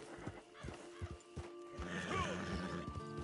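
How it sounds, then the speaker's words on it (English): A horse in the Red Dead video game whinnies and neighs, with clip-clop hoofbeats early on and a louder, sustained whinny in the second half over an ambient game background. "The horse gets scared."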